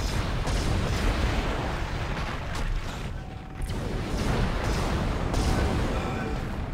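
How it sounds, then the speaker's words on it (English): Gunfire in the horror game Dead Space: loud, dense bursts of shooting and impacts over a rumbling background, continuing with a brief dip midway. "let me shoot you in the spine"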